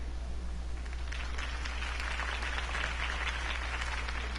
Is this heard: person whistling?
no